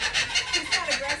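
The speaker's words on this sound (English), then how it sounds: "So it's called the laughing kookaburra because," A laughing kookaburra calls close by, a quick run of about seven rhythmic, cackling pulses with no talk.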